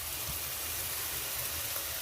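Kashmiri chilli powder, turmeric and cumin paste sizzle in hot oil in a pan for a fish curry, a steady close frying hiss with no voices.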